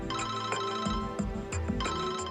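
Cell phone ringtone playing a bright, repeating electronic melody, loud and close, with no voices over it.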